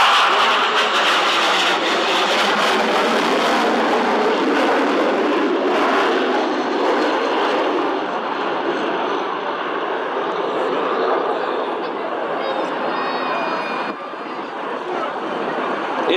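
A jet aircraft roars past at an air show, a loud, steady broadband rumble sustained throughout, with flaps and landing gear extended before afterburners are lit.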